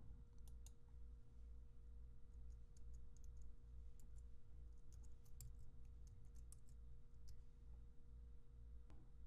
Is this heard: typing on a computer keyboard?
yes